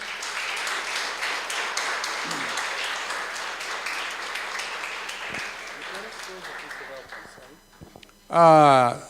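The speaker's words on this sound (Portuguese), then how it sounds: "Palmas para Jesus." A church cell group congregation claps for Jesus at a small home gathering, a steady dense patter of many hands under continuous talk, ending with a brief louder voice.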